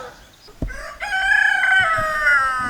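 A rooster crows loudly and close by, a long drawn-out call following a sharp knock, with faint clucking beneath.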